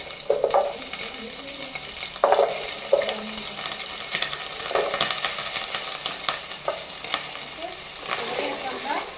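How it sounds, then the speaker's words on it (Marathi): Potatoes and carrots frying in a pan for a Goan mixed vegetable curry, a steady sizzle broken by several louder stirring scrapes and clatters, close up with no talking. "पोटॅटो आणि गाजर पयली फ्राय करून काडटा"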